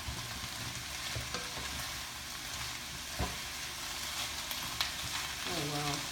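Bok choy sizzles steadily as it is stirred and sautéed in a hot pan, with a constant frying hiss and occasional scrapes and clicks of the utensil against the pan.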